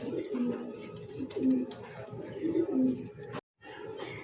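Several pigeons coo in repeated low, soft phrases at close range, with a brief dropout near the end and faint background voices beneath the calls.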